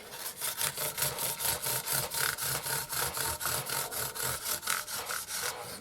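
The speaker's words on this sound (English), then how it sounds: "So we're just sort of starting the polishing process." Rhythmic back-and-forth rubbing of polishing the body and smoothing the edges of a 1961 Gibson SG Reissue guitar, about four strokes per second, close and steady with no talk.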